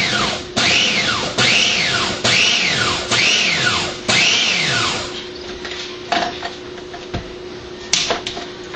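A food processor pulses raw taco ingredients in a series of loud whirring bursts, each spinning up and winding down, about once a second, then giving way to quieter clattering and knocks.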